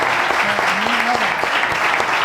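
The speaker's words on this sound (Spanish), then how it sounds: "Un aplauso para él." Audience applause at a live gastronomy and culture talk with a chef, a palaeontologist and a flamenco singer, a dense steady clatter of clapping filling the room with a faint voice beneath.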